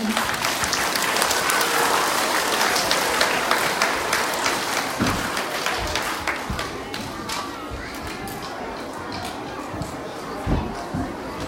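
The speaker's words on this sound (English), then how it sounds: "Let's give these librarians one more clap." Applause for school librarians at a school gathering in a library: dense clapping from a crowd of children and adults, loud and sustained for the whole stretch, thinning slightly toward the end with some chatter mixed in.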